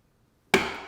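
An auctioneer's hammer comes down to close a sale at a live post-war and contemporary art auction, a single sharp wooden knock after near silence with a short ringing decay.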